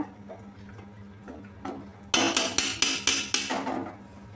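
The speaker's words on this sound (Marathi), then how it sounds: "आता ह्याच्यावर ताट झाकून घ्यायचं" Metal plate set over a cooking pot of mutton as a lid, giving about six clanging, ringing metallic knocks in a quick, uneven run after a few quieter kitchen clicks.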